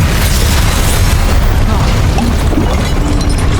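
A Confringo spell bursts in Hogwarts Legacy, a loud, sustained booming blast with dense low rumble that fills the whole moment without letup, alongside game effects.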